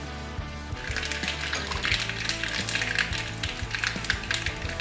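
Mustard seeds splutter in hot coconut oil while a vazhakka uppucurry is being started, a dense, continuous crackle and popping that fills the pan close by, with no talking.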